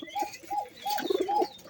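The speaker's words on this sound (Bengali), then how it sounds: "এই যে একজোড়া লাল বাসিরাজ কোখা কবুতর আছে" Pigeons coo in soft repeated phrases, several low rolling calls close by and fairly quiet, from a pair of red Bashiraj-type domestic pigeons kept by a hobbyist.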